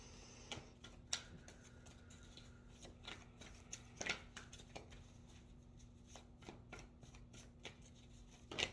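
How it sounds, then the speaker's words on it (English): Tarot cards are laid down one by one on a table, soft quiet slaps and flicks at irregular intervals in an otherwise still room. "I'm going to lay all the cards out first"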